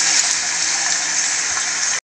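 Water pours steadily into a cooking pot of igado, a loud, continuous hissing splash that stops abruptly after about two seconds.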